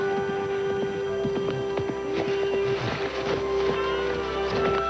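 Rhythmic hoofbeats of a horse moving at speed over a steady mechanical hum, the thuds quick and continuous throughout.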